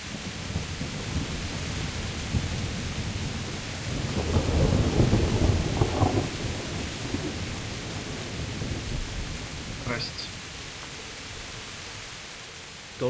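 Steady rain hiss in a medieval-setting video game storm, with a deep rolling thunder rumble swelling in the middle and then fading back under the constant downpour; no talking.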